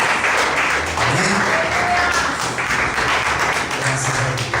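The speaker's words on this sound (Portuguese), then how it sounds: "Você pode aplaudir o Senhor" A church congregation applauds, a dense, continuous wash of many hands clapping that fills the room steadily from start to finish.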